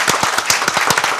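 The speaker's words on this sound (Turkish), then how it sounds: "Alkışlayalım" A short burst of clapping at a Turkish folk music programme, a few distinct hand claps in quick, uneven rhythm, close and fairly loud.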